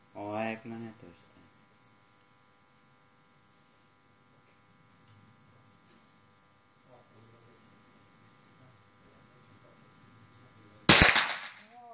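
A single sharp, loud gunshot at the Vilberg RT Cup 2019 shooting competition rings out near the end after a long quiet stretch. A voice speaks briefly at the start and faint murmurs come in between.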